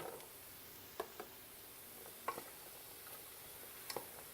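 Shrimp stir-fry with celery and red pepper sizzles quietly in a pan, with a few sharp scrapes and taps of a spatula at irregular intervals over a steady low hiss.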